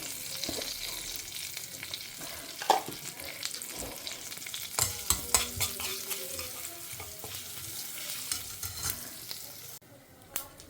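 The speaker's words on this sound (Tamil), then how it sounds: "வானதியில் கடுகு வெந்தயம் போட்டு கொஞ்சம் கருவேப்பிலை போட்டு பெருங்காயம் போட்டுடலாம்" Mustard seeds, fenugreek, curry leaves and asafoetida sizzle in hot oil in a pan for a stuffed brinjal masala, a close crackling fry with sharp popping bursts and spoon scrapes, no voices.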